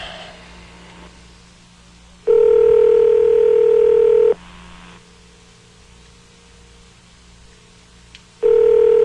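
Telephone call being placed: a loud steady ringback tone sounds for about two seconds, pauses for several seconds of low line hiss, then rings again near the end, with no one speaking.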